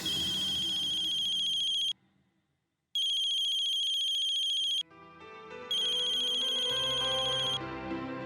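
A telephone ringtone trills loudly in repeated electronic bursts of about two seconds each, separated by short silences, with soft music or room tone coming in beneath the later rings.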